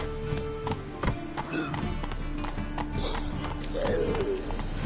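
Hoofbeats of the horse Roach galloping in The Witcher 3, a steady clip-clop rhythm running throughout under a busy game soundscape, with a brief whinny-like tone near the end.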